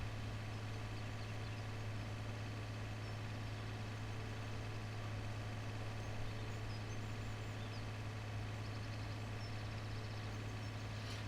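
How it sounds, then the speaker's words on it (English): Small Massey tractor from the Platinum DLC in Farming Simulator 17 running steadily, a constant low engine hum that is faint and unchanging throughout, with no talk. "this tractor, as I've said previously, is the little Massey that comes with the Platinum DLC"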